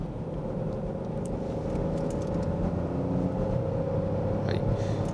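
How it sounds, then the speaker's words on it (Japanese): Constant broad road roar from the tires of a 2015 Citroen C4 with a downsizing turbo engine cruising on a road, heard from inside the cabin as an even, steady hum with no speech. "聞こえてくるのは タイヤの音だけです"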